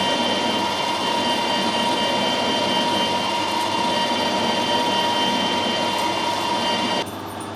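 A 13.5mm step drill grinds steadily through metal with a continuous, droning whine that stays constant, then cuts off abruptly near the end.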